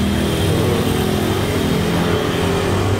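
A Yamaha Vixion motorcycle with an unstable idle that rises and falls runs close by during idle adjustment, a loud, continuous engine drone that fills the whole stretch without pauses.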